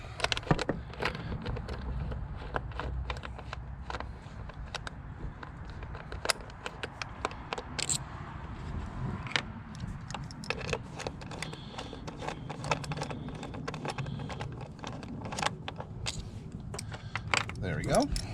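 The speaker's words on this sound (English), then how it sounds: "I'll just go ahead, take out these bolts" Metal valve cover bolts are being taken out of a 2007–2012 Nissan Altima 2.5L engine. Close, irregular clicks and jangles of the bolts and tools run through the clip while someone talks at intervals.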